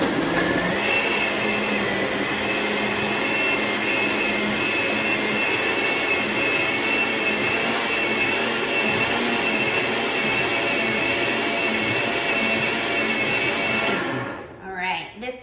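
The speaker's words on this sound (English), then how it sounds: "now just go ahead and blend that up again, depending on your blender, for about 30 seconds or so" A blender whirs steadily at high speed while blending a frozen mango smoothie, a loud, constant motor roar that holds for about fourteen seconds before winding down at the end.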